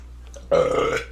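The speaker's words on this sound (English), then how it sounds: "I belched." A man lets out a single loud, drawn-out belch that starts abruptly midway and rumbles on for about half a second, close to the mic after a quiet lead-in.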